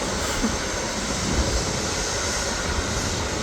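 A jet airliner taxis at Manchester Airport, giving off a steady broadband engine roar that stays even and moderately loud at a distance, with no voices.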